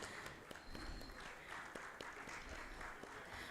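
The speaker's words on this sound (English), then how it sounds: "can we have a round of applause for the panelists?" An audience at a maritime sector panel discussion gives the panelists a round of applause, a soft, distant-sounding patter of clapping that stays steady throughout.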